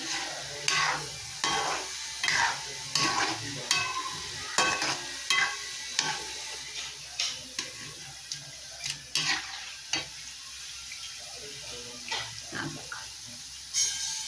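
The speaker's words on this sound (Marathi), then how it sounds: "चांगला ब्राऊन कलर होई तोपर्यंत तळायचा." Shankarpali sweets deep-fry in hot oil until brown, heard as a soft steady bubbling under a series of sharp, regularly spaced clinks and stirring taps of a utensil against the pan, close and moderately loud.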